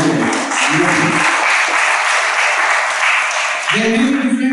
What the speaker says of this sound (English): One round of applause to all of them.